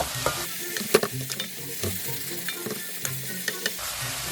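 Pork stir-frying in a pan with red pepper paste and milk, with close scraping and stirring clatters and short utensil knocks over a soft, steady sizzle, no voices.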